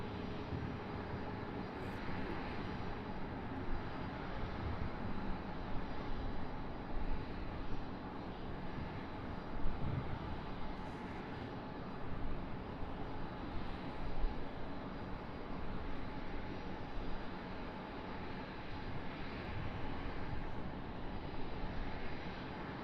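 Breeze Airways charter airplane moving on the ground at Raleigh-Durham airport, a steady, fairly distant jet engine drone that holds evenly throughout.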